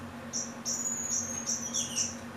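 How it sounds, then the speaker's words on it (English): A baby parrot finch in an aviary sings a run of high, thin chirps and short trills, repeated in quick bursts over a soft steady background hum. "that's Jam singing away, trying to learn how to trill. One of the baby parrot finches."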